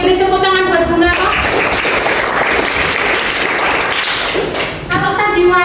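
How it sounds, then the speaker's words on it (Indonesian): Classroom of students clapping together in a dense burst of applause lasting several seconds, between stretches of a teacher talking before and after. "beri tepuk tangan buat bunga kok"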